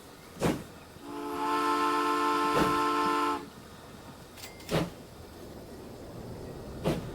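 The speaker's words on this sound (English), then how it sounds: "Give us a whistle, General. Give us the whistle." Steam locomotive whistle from the first train on a Transport Fever 2 map, sounding as one steady, loud harmonic blast of about two and a half seconds between short clunking knocks.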